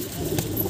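Punjabi Madrasi pigeons coo softly and steadily at close range, a low murmuring rumble with no voices over it.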